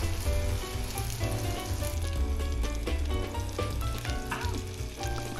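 A hamburger patty fries in a pan, giving a steady, loud sizzle that carries throughout alongside a backing of music, with no talking.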